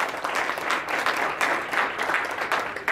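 Audience applause at a club success presentation, a dense, steady wash of clapping hands with no talk over it.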